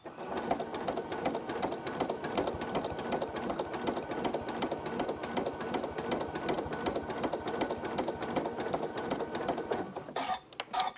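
Sewing machine stitching in the ditch along a quilt binding, a fast, even mechanical whir with rapid needle ticks running continuously, then stopping briefly near the end.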